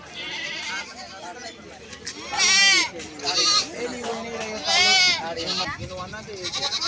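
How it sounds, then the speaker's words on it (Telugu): Goats and billy goats at the Kesampet weekly livestock market give loud, wavering bleats close by, several overlapping cries rising over a crowd of people talking. "కేశంపేట మార్కెట్లో మేకలు బాగానే వచ్చినాయి"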